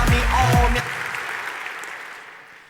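An audience applauds at the Unite 2014 keynote, a large game-developer conference hall, with a voice talking over the clapping before it fades out and trails away.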